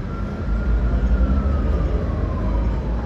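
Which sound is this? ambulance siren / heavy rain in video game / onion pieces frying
ambulance siren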